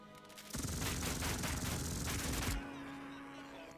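A machine gun fires a sustained rattling burst of about two seconds in the World War II strategy game Headquarters: World War II, then cuts off, leaving a low background hum.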